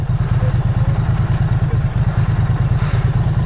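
A Triumph Street Twin motorcycle engine idles loudly close by, its rattling exhaust giving a fast, uneven putter that continues throughout.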